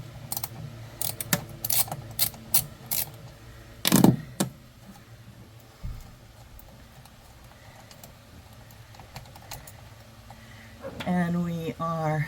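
Ratchet working on the coach battery negative cable of a Leisure Travel Vans Unity motorhome, a quick series of sharp metallic clicks followed by a louder clunk, then quieter handling noises, with a person talking near the end.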